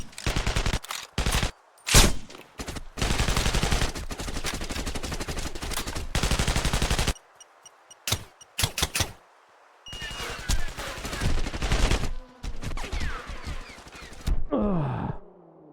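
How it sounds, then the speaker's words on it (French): Rifle fire from the sniper video game Sniper Ghost Warrior 2, with loud sharp reports and bursts of shots at close range, pauses between them, and later a quieter stretch with softer game effects. "Descends-les au fusil."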